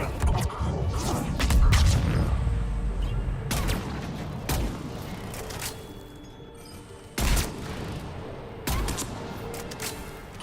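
Sharp, loud sniper rifle shots in Mass Effect 3 crack out at intervals over a steady rumble of battle noise, each report followed by a brief decaying tail.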